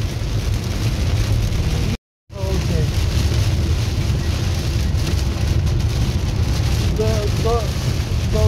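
Heavy rain drums on a car driving a busy highway near the Serbian border, a constant loud hiss over road rumble, with a brief dropout early on and faint voices toward the end.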